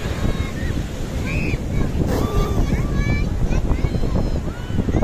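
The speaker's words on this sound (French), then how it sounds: "les vagues de malades qui sont juste derrière moi en ce moment même" Big ocean waves crash at Arcachon beach, a loud churning surf roar buffeted by heavy wind noise on the microphone, with a rising surge of breaking water midway.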